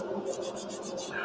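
Sandpaper rubs along the grain of a soft wood candlestick in a few quick rhythmic strokes, a soft scratchy rasp close by at low volume.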